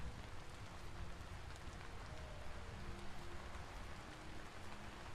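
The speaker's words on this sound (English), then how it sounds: "I set it so it's raining and I'm in a forest" Steady rain falls through a forest in the video game Vintage Story, a dense, even hiss of drops on foliage lasting throughout with no voices.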